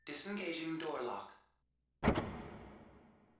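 A video game door lock disengaging with a sharp mechanical clunk, then the door sliding open with a decaying whoosh, heard after a stretch of speech-like sound and a brief silence.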